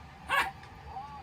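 A dog gives a single short bark near the middle, fairly close, over a low background hum, with a fainter trailing sound afterward.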